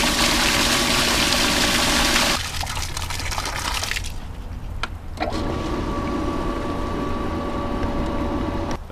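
An Intex pool filter pump runs its rinse cycle: loud rushing water and motor hum, a sudden drop around two seconds as flow changes, then a steady humming whine with a couple of sharp clicks before the rush resumes.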